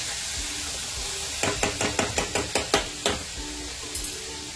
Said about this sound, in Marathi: चांगलं फ्राय करून घ्यायचं, हलवून घ्यायचं